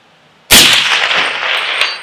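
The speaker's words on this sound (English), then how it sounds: "it's still hitting that plate with some authority" A suppressed rifle with an 8-inch barrel fires once, followed by the sharp metallic ring of a steel target plate being struck, a loud close report that decays into a lingering clang and hiss.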